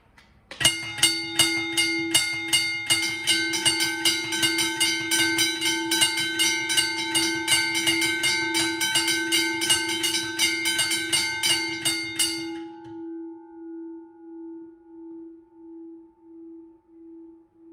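Two McKenzie & Holland teardrop railway bells clang together in a rapid, continuous ringing for about twelve seconds, then stop, leaving a long humming tone that slowly fades with a pulsing waver.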